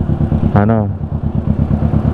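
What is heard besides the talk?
big bike motorcycle engine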